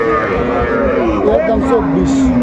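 A young bull calf moos loudly and close by at a cattle market, a long wavering low call, with faint murmuring voices in the background.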